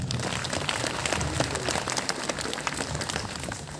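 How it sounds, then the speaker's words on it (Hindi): A crowd of guests at a church pilgrimage festival applauds steadily, a dense, even wash of clapping that holds for several seconds at moderate distance with no voices on top. "जोर से ताली।"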